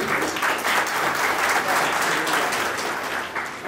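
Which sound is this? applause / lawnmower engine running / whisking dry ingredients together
applause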